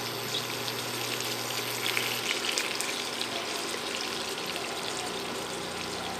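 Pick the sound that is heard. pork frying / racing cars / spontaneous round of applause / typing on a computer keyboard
pork frying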